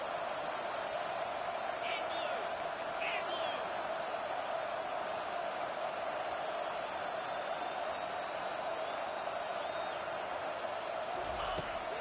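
A football stadium crowd roars steadily through a two-point conversion attempt late in the fourth quarter, a dense sustained wall of cheering with a few whistles and shouts rising above it.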